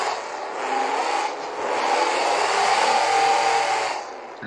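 Demolition derby cars race across a dirt track, engines roaring loudly and rising and falling as they charge in to make hits and back away, with no one talking.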